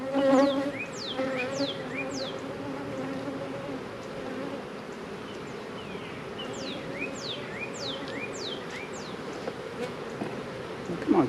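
Honeybees swarm around an opened hive during a brood inspection, a dense close buzzing with individual bees whining past the microphone again and again.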